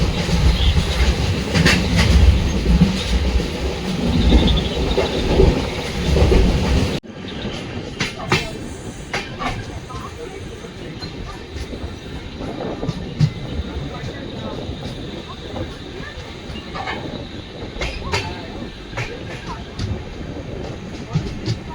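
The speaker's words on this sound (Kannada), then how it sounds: "ಈಗ ನಾವು ಡಿಪಾರ್ಟ್ ಆಗಿದ್ದೀವಿ" Panchaganga Express passenger train running from Kundapura toward Bengaluru, heard from inside a general-class coach: a steady rumble and rhythmic wheel clatter on the rails with a louder stretch at first, continuing throughout.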